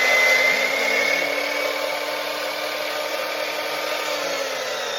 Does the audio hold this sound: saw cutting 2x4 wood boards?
yes